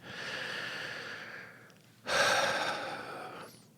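A person takes a deep, slow breath, a soft airy inhale and then a longer, stronger exhale, close and quiet, with no talking.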